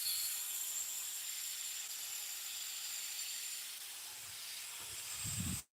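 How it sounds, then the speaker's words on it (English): An airbrush hisses steadily while spraying finish onto a handmade turned pen, a continuous airy spray with no pauses and no voices. "I'm just making and airbrushing a pen."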